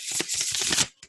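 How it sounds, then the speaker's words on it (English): A tarot card deck is shuffled up close in a quick burst of rapid riffling flutters about a second long, ending with one soft tap, with no talking. "That was a lot more satisfying shuffle."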